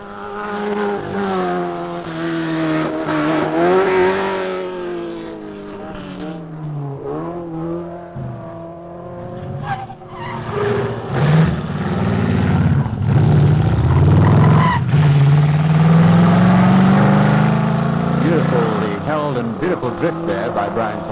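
A car drifts on the Knox Mountain hill climb course in Kelowna, BC, during a 1972 event, probably a Corvette. Loud engine note rises and falls with revving and a tire squeal, while commentary runs over it throughout.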